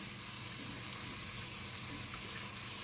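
Water rinsed from a blender jar is poured into an egg tikka masala, giving a faint, steady gushing splash that runs evenly for a few seconds with no talk.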